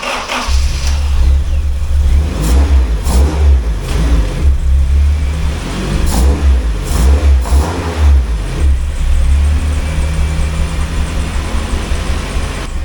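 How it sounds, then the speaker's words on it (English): Honda K20A3 engine with a K20A2 head and K24 cams, in an EP3, cranks and fires, then idles roughly with repeated loud revs. The engine stays close and dominant throughout, with no talking. "So we're gonna go ahead and try to start it."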